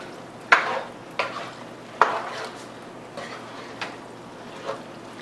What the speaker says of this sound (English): And then stir all this together to get all the flavor